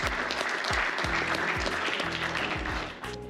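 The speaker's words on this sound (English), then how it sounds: "I want to do another round of applause for all our winners and all our participants as well" Applause from the crowd at the Rice Datathon 2024 closing ceremony, honoring winners and participants: dense, steady clapping that holds for a few seconds, then thins toward the end.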